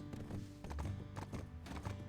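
Hooves of a horse clip-clopping in a video game, a steady run of close, muffled thuds with a possible faint whinny, under constant in-game background sound.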